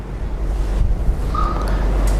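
Broad, steady rush of water and wind as a small wooden sampan is paddled slowly across a flooded river, continuous and fairly loud with no voices.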